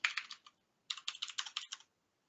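Typing on a computer keyboard: two quick bursts of crisp key clicks, close and clear, separated by a short pause, in an otherwise silent room.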